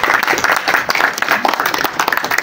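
Dense audience applause from a crowd at a Pakistan People's Party birthday gathering for Faryal Talpur, loud and steady with rapid overlapping claps throughout.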